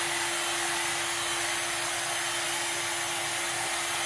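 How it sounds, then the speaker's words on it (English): A big Ferrari-red blow dryer runs in a hair salon, a steady, constant whoosh of airflow with a fixed motor hum, loud and unbroken throughout. "My blow dryer."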